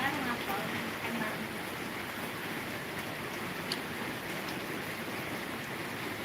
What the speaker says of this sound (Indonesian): Hujan makin lebat aja tuh.